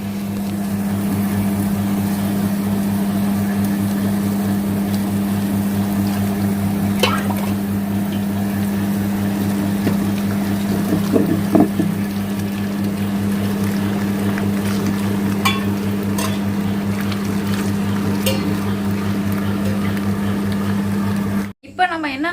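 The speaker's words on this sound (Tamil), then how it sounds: "உளுந்து அரைச்சி வச்சு இப்போ வந்து அரிசி ஓடிட்டுருக்கு." A wet grinder runs with rice for idli and dosa batter, urad dal already ground, giving a loud, steady motor hum with a faint wet churning that continues unbroken before cutting off abruptly near the end.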